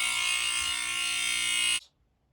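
An old FireX smoke alarm sounds a loud, harsh continuous buzz that holds steady for nearly two seconds, then cuts off abruptly into silence.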